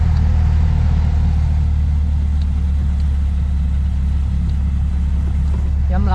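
A bajaj auto rickshaw on a highway ride toward Cikampek from Bogor, its engine giving a loud, constant low rumble with road and wind noise throughout.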